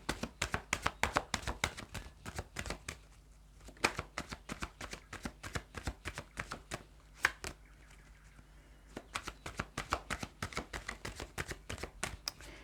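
Tarot cards shuffled by hand at close range, a rapid run of crisp riffling snaps in bursts with brief pauses between, no voices.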